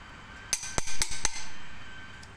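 Light metallic taps on a tappet adjuster of a Ford V6 Essex engine during a valve clearance setting, four sharp close knocks in quick succession with a faint ringing tail.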